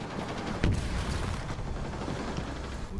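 Gunfire in the video game Rainbow Six Siege: one sharp, loud shot cracks out, then dense rumbling battle noise runs on without a break.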